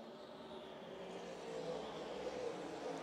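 A group of race cars on the front straight at the SVRA Indy Legends charity pro-am race, a continuous engine roar that swells louder as the pack approaches.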